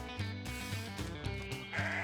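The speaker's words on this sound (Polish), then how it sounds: "Sky znalazła owce." Cartoon-style sheep bleats in a Paw Patrol video game on PS5, several short repeated bleats over continuous game music, fairly loud and close.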